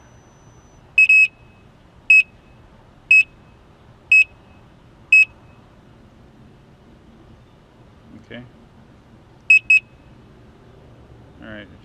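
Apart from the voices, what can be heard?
Gotway Msuper V3 electric unicycle beeping during level calibration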